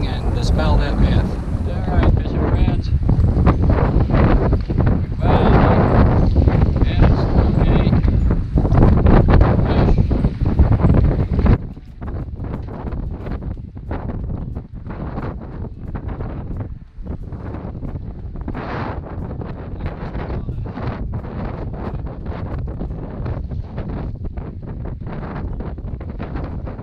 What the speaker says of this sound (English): Today the wind's out of the east.